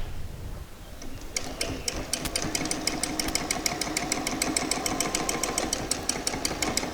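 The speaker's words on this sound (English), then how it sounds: "We can stitch it down at the side." After a brief quiet start, a sewing machine stitches a pocket bag for a pair of shorts, running in a fast, even, close mechanical rattle of repeated needle strokes.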